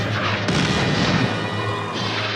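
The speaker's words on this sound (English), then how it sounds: "The roar of gunfire replaces the talk of statesmen" Wartime gunfire from the German invasion of Poland and Danzig, heard as a dense, continuous roar of booms and crashes with a sharp burst near the start, loud and sustained without speech.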